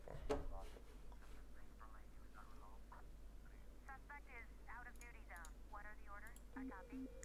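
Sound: telephone ringing in the 911 Operator video game

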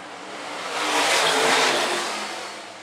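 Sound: modified race cars racing down dirt track straightaway

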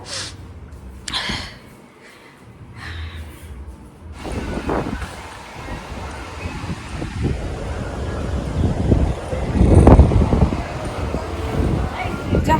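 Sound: wind at the sea

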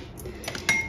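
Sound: spoon levelling rice in multicooker for pilaf

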